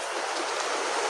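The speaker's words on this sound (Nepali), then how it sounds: "अहिले चाहिँ पानी परिरहेको छ" Rain falls steadily during building work on a house, a dense even hiss with no breaks through the short stretch.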